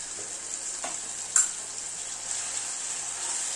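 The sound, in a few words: turmeric, Kashmiri chili and Malvani masala frying in oil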